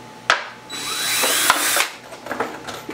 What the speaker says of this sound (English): Plastic apparently is not as easy as it looks to drill.